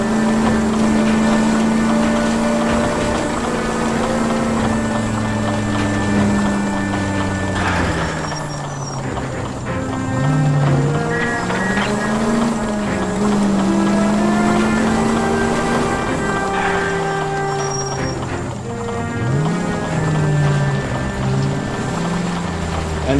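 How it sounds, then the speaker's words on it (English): A damaged car engine in the video game L.A. Noire, its hood gone, drones loud and continuous, its pitch rising and falling with speed amid game effects, without any voices over it. "And the engine's already knocking from the damage."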